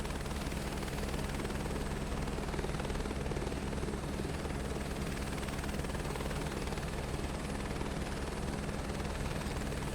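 A Chinook helicopter flying in Microsoft Flight Simulator 2024, heard as a steady, continuous rotor and engine drone that holds at an even level throughout with no talk.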